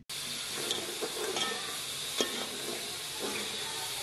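Spices for mutton keema frying in a pan with turmeric, salt, cinnamon and black cardamom, a steady sizzle broken by occasional scraping stir strokes, close by.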